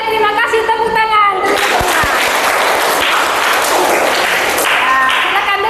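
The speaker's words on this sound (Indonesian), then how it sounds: "Oke, terima kasih, tepuk tangan." Children clapping in a classroom during a Catholic religious education lesson, brief sung voices at the start giving way to a sustained burst of hands clapping mixed with chatter.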